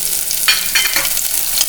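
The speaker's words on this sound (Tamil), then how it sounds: "கடுகு போட்டுக்கலாம். கடுகு பொரிச்சுங்க." Mustard seeds crackling and popping in hot oil in a pan while tempering for thoothuvalai rasam, a few sharp close spits over a steady faint sizzle.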